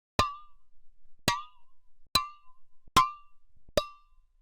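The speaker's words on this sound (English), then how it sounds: "we have a compressed air can that I was striking" A compressed air can struck five times at roughly even intervals, each hit a sharp metallic ping with a ringing tonal decay, close and clear, with silence in between.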